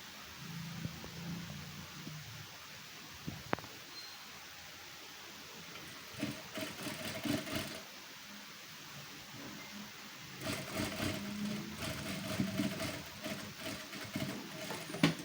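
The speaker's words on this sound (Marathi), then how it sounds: "आता आपण अगोदर पूर्ण टीप मारून घेऊयात व्यवस्थित आणि नंतर आपण कवर शिलाई घेऊया" A sewing machine runs a cover stitch on a garment's shoulder and sleeve. Two faint runs of rapid, steady stitching rise above a constant low background hiss.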